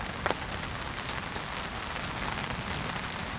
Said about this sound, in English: This looks to be a really quick rain shower.